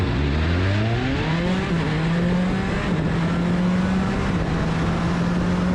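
A race car drives hard along twisty roads, its engine loud and close, rising in pitch through repeated upshifts and then holding a steady high drone at speed.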